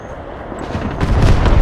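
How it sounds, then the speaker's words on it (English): Air raid bombing buildings in the Broken Arrow video game, heard as a rumbling barrage of explosions that swells from a dull low roll into loud, heavy booms toward the end. "I'm calling in an air raid to level these buildings."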